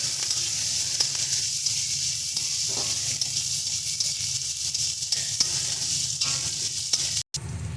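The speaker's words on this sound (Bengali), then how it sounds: "পেঁয়াজটাকে আমরা হালকা করে ভেজে নিচ্ছি।" Onion frying lightly in hot oil in a pan, a steady close hiss and sizzle with occasional soft stirring scrapes, continuous and without talk, briefly cut near the end.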